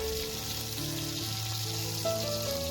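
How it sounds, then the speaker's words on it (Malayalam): Marinated fish shallow fries in oil with a steady close sizzle, while sustained tonal sounds run underneath. "എന്നിട്ട് നമ്മൾ എണ്ണയിലിട്ട് ജസ്റ്റ് അതൊന്ന് ഷാലോ ഫ്രൈ ചെയ്തെടുക്കുക."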